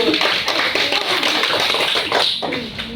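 Applause from students in a classroom, a dense, steady crackle of many hands clapping fairly close, with faint voices mixed in.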